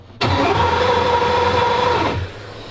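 Twin turbo Ferrari engine cranking, a loud, continuous starter whir lasting about two seconds before cutting off abruptly, then a low hum afterward.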